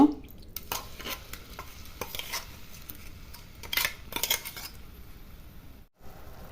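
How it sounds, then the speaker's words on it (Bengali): Spice paste with bay leaves frying in hot oil in a kadai for Hyderabadi chicken masala, stirred with repeated scraping utensil strokes over a soft sizzle, close and fairly quiet, with a brief pause near the end. "এবার মশলাটা আমি একটু ভালোভাবে ভেজে নিব"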